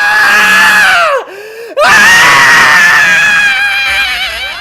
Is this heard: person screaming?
yes